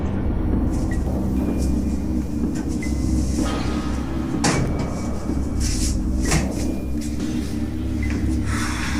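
A metal gate is rattled and banged in repeated irregular clanks and scrapes over a constant low rumble, with sharp metallic hits standing out at intervals.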